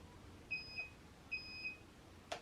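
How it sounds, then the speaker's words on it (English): Electronic controller on a Sur Ron Light Bee electric dirt bike beeping in two short double-tone pairs, a brief click at the end, fairly clear against low background noise. "But then it beeps again"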